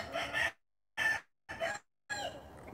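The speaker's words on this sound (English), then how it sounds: "Let's get a couple cock-a-doodle-doos out before we go." A rooster crows in four short, loud calls separated by brief silences, heard close and alone.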